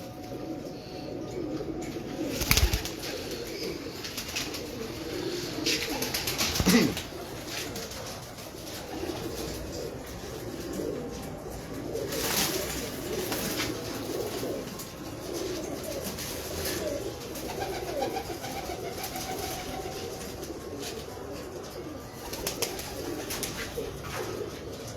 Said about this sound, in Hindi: मुझे पाकिस्तानी कबूतर चाहिए